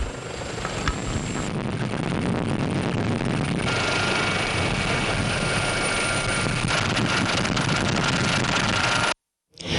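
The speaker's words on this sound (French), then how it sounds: "hélicoptères bombardiers d'eau" A water-bombing firefighting helicopter drones loudly and steadily for nearly ten seconds, its rotor and engine roar mixed with wind buffeting before cutting out abruptly near the end.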